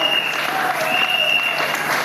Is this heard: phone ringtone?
no